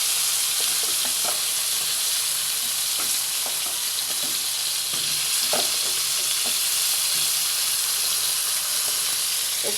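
Eggplant slices fry in leftover hilsa fish oil, a constant loud sizzle and hiss with occasional stirring scrapes and pops, close up and without talk.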